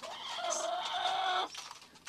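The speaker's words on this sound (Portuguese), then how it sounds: "Tem uma galinha enjoada demais aqui. A choca." A broody hen gives a drawn-out, wavering cluck lasting over a second, close and fairly soft, followed by faint rustling.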